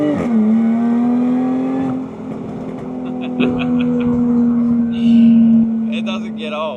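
A sports car engine drones loudly and steadily, then revs, its pitch rising and falling. Voices are heard faintly alongside it.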